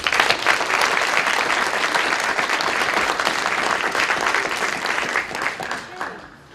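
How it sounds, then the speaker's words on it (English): Audience at a school board meeting gives a round of applause, dense clapping that stays loud and even for several seconds before tapering off at the end. "can we have a round of applause for Deborah Keene, please?"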